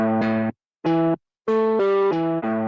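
Electric guitar played through a crunchy overdrive, screamer-style distortion patch in Guitar Pro, giving a few sustained distorted notes and chords in short bursts with gaps of silence between them.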